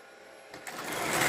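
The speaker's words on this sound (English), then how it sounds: "for a little wind-up engine, it pulled all that." A Marx wind-up 0-4-0 toy locomotive runs on its clockwork motor, a close, steady mechanical whirring that starts quietly and grows louder and busier after the first half second.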